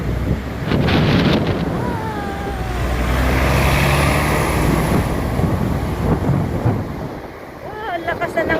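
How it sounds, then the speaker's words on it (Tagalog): Strong typhoon wind during a tropical storm, roaring gusts buffeting the microphone in a steady loud rush, with a person talking excitedly over it. "Wow, lakas na ng hangin guys."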